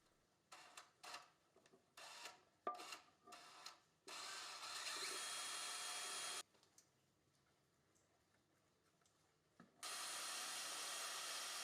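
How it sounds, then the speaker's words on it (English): A power drill whirs steadily for a couple of seconds, stops, then starts again for another long burst, after some light tapping and clicking, drilling a mounting hole for an electric vehicle's on-board charger. "we can drill out the second hole."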